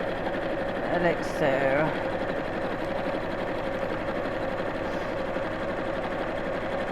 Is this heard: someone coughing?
no